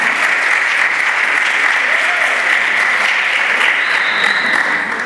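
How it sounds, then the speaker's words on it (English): A hall audience applauds honored alumni at a university reading and writing event, with dense, sustained clapping that stays loud and even throughout, close up with no speech over it. "Let's please give them a round of applause."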